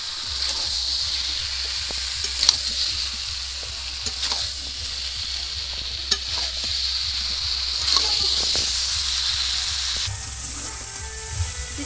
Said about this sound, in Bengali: চিকেনটা কষানো হয়ে এসছে